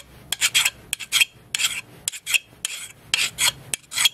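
A hand file rasps across a piece of W2 steel in short, uneven strokes, about a dozen crisp scraping passes separated by brief pauses, close and clear with no talking.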